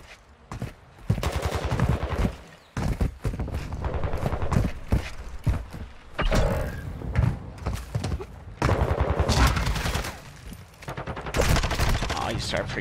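Rapid gunfire in a ranked online shooter match, with loud bursts and strings of shots crackling close and repeating across the stretch, broken by short pauses.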